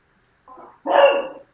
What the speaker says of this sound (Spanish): tengo un perro, perdón, y está ladrando